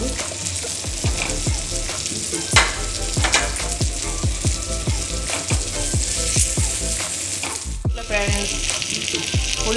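Fish masala fry sizzling steadily in a pan, a close, continuous frying crackle with repeated sharp scraping stirs throughout.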